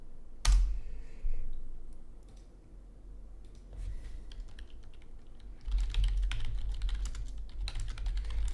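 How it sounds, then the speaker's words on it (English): Rapid keystrokes tap on a computer keyboard in irregular bursts, close and crisp, with a few louder thumps and clicks and quiet pauses between. "Just typing something quick."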